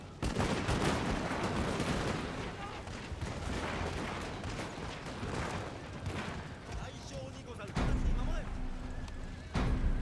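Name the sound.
troops firing volley in video game Shogun 2 Total War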